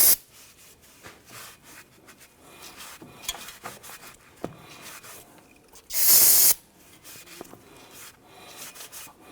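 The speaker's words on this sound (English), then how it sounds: "Use some spray solvent. Go ahead and clean this up." A short, loud hissing spray of brake cleaner solvent onto a 2017-2020 Hyundai Elantra brake rotor bursts for about half a second amid quiet rubbing and handling noises.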